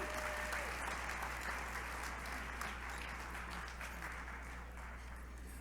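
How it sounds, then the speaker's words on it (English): Steady applause from a gala audience at a 35th anniversary celebration, sustained and fairly distant, holding at an even level for several seconds before tapering slightly. "Let's give a round of applause for Sharon Sales Belton"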